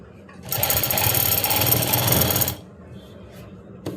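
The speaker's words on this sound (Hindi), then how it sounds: "अब हमने अपने प्लेट्स को दब्बी सिलाई लगानी है अपनी बेल्ट के ऊपर।" A sewing machine stitching pleats down onto a belt with a short, firm stitch: a close, steady run of rapid stitching lasts about two seconds and then stops, leaving quiet room noise.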